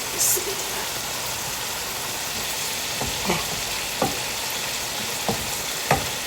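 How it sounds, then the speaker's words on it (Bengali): Fried vegetables sizzle in a pan with curry oil, a steady close frying hiss broken by several sharp spoon-against-pan knocks spaced a second or so apart. "ভাজা এদিকে হতে থাক"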